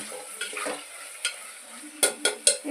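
Potatoes with tomato being mixed in a frying pan, soft sizzling under a few scraping strokes, then three sharp clanks of the spoon against the pan near the end, close and fairly quiet.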